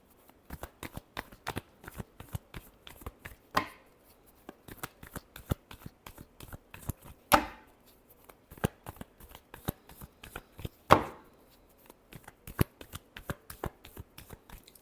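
Tarot cards are shuffled by hand in quick, rhythmic runs of soft flicking clicks, broken by a few louder riffles or taps on a quiet background.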